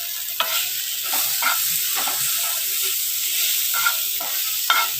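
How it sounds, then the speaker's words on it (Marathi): Finely chopped tomato sautéing in a potato stuffing mixture in a hot pan, a strong steady sizzle with repeated scraping stirs and occasional clinks of the spatula. "त्याच्यानंतर बारीक चिरलेला टोमॅटो टाकून परतून घ्यायचा आहे."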